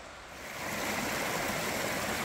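Creek water rushing steadily near Lizard Log Falls by Lost Corner, Arkansas, a continuous close, broadband flow that swells in after a brief quieter start, with no voices.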